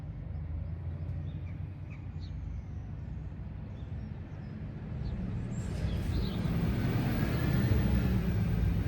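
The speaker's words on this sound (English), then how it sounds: "You may be able to hear some lorries and stuff in the background." Heavy vehicles such as lorries and tractors rumble past in the background outdoors, a low continuous drone that swells louder in the second half, with faint bird chirps above it and no speech.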